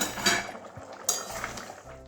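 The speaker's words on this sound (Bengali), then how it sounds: "এবারে ঢাকনাটা খুলে দেখছি ডালটা কত কতটা সিদ্ধ হয়েছে" A pot lid is lifted off to check moong dal simmering with potatoes, giving a couple of sharp metallic clinks and a scrape of metal on metal, close by, over a low background hum.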